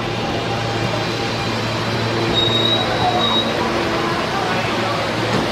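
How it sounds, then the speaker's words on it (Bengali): An E train on the New York subway pulls into a crowded station with a steady, loud rumble and a brief high squeal of wheels, while people talk over the continuous noise. "ট্রেন এসে গেল, এবার আমরা ট্রেনে উঠবো।"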